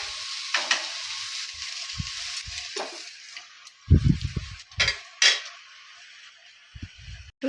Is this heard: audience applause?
no